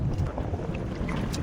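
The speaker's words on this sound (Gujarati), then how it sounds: "હવે પવન નીકળી આવ્યો." Wind picking up at sea on a fishing boat, a rough, buffeting gust noise mixed with water and hull sounds, close and continuous.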